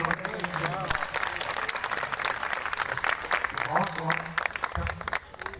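Crowd applause rolling steadily at a Congress party event in Chandigarh, with a voice talking over the clapping at times.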